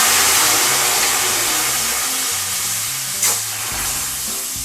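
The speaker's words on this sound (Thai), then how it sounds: "โดยเอา หัวกะทินะคะ มาเคี่ยวให้แตกมันนิดหน่อยนะคะ" Thai red curry paste cooks in thick coconut cream for a pork belly curry, a steady, close, crackling sizzle with a single brief clank partway through.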